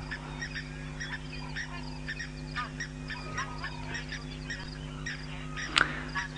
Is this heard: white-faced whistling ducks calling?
yes